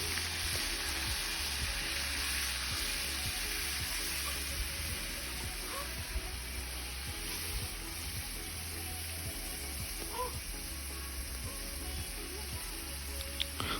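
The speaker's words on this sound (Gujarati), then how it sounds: "કઢાઈઓ મૂકી દીધું છે તેમાં તેલ નાખી દીધું એમાં રાઈ જીરું નાખ્યું છે પછી આ ટામેટા નાખી દીધા" Chopped tomatoes fry in hot oil with mustard seeds and cumin in a kadai, giving a steady low sizzle with small pops and spits, close and continuous.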